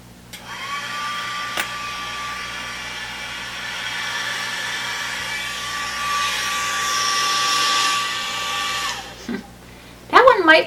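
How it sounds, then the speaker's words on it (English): A handheld hair dryer runs steadily with a whining motor hum and rushing airflow, holding an even pitch for about nine seconds before switching off, followed by a few soft clicks. "actually that is a tool that we use to dry our hair. It's called a hair dryer,"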